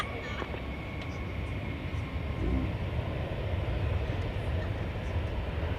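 A jet airliner takes off from runway 18 left at DFW Airport, its steady broadband engine roar holding loud and constant throughout, with faint radio chatter underneath.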